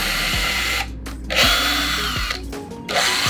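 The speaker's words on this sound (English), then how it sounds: "use your drill to get some pilot holes." A power drill whines loudly up close, boring pilot holes into wood for a planter, stopping and restarting a few times, its pitch shifting as it bites in.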